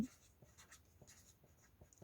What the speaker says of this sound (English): Then I can write it well.